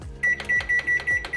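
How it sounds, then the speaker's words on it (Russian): Microwave oven running while heating a mug cheesecake, a low hum under a regular series of six short electronic beeps with soft clicks, close and fairly loud. "Все отправляем в микроволновку на 3 минуты."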